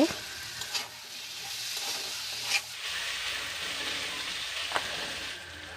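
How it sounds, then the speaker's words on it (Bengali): Potatoes and spices frying in a pan, a steady sizzle and hiss with a few scraping stirs, close and even throughout. "নিচে ধরে যাচ্ছে তাই সামান্য জল দিয়ে আলুগুলো কিছুক্ষণ কষবো"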